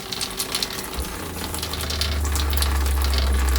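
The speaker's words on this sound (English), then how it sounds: "it leaks out of the faucet at the bottom at the same time" Running water pours and splashes steadily from a leaking RV shower faucet, growing stronger and fuller partway through, close by with no talking.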